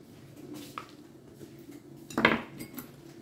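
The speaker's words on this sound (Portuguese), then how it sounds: "Assim, misturo bem aqui." A spoon scrapes and clinks against a bowl while cake batter is stirred for a quick healthy breakfast cake. Soft, sparse taps build to one louder clatter near the end.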